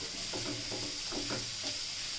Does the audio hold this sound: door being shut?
no